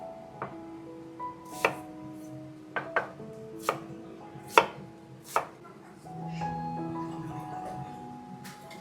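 A knife chops half a medium onion into cubes on a board with distinct, irregular close thuds, about eight firm strikes separated by pauses, followed by a softer scraping stretch at the end; no talking.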